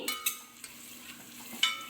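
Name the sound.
onions frying in oil in a biryani pot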